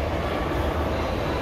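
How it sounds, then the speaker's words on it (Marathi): An underground metro train on the Pune Metro purple line rumbles steadily and loudly in a deep tunnel station, with a dense, continuous roar throughout. "अंडरग्राउंड मेट्रो आहे पर्पल लाईन।"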